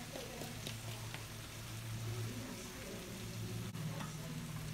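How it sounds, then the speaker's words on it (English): Riced cauliflower cooking in a pan, a soft continuous sizzle and crackle with occasional faint stirring scrapes and one sharp click, fairly quiet throughout. "It is now time to add the riced cauliflower, you guys."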